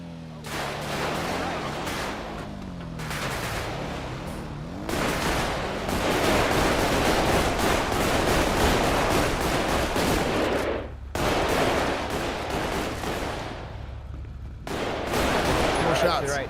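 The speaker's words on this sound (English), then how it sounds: "More shots." Bursts of rapid gunfire from a GTA roleplay game rattle in long dense volleys separated by brief pauses, loud and close, with voices talking over the shooting.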